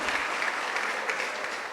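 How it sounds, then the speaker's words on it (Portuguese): A church congregation claps briefly and fairly quietly, a continuous patter of applause from a room full of worshippers heard at a distance for under two seconds. "Pode aplaudir Jesus, que Ele merece."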